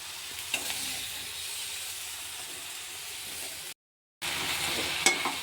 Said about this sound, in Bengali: এর মধ্যে আমি চিংড়ি মাছগুলো দিয়ে দিলাম। চিংড়ি মাছটা মশলার মধ্যে একটু কষিয়ে নিয়ে